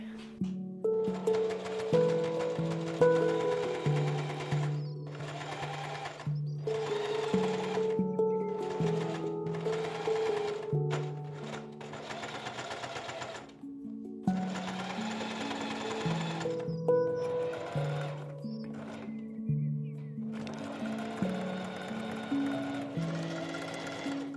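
An electric sewing machine stitches a jacket lining in rapid buzzing runs, starting and stopping repeatedly with short pauses between bursts, close and steady, with no talking.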